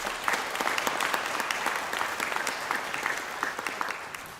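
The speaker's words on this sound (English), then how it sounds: "Could we have a round of applause, please, for our graduates?" A conferring ceremony audience applauds graduates in a steady, dense wash of clapping that holds evenly for the whole span, with no voices over it.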